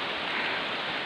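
Heavy rain caught while jogging outdoors, heard as a steady, even hiss of broadband noise with no breaks over about a second.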